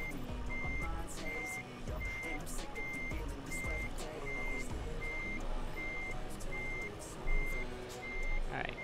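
Steady, evenly spaced reversing beeps from a truck backing a trailer into a tight parking spot in Euro Truck Simulator 2, repeating over a constant engine rumble with a brief thump near the end.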